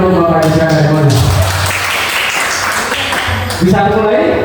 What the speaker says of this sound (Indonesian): Tepuk tangan untuk Bapak Ibu sekalian.